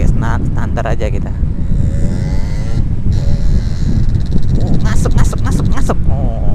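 A daily-use motorcycle with its stock exhaust rides along the road, giving a steady rush of engine and wind noise throughout, with a voice talking over it.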